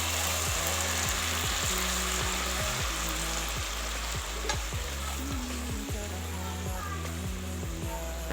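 Mashed tomatoes hit softened onions frying in a pan for homemade pizza sauce, giving a loud continuous sizzle with rhythmic stirring scrapes and a low steady hum underneath.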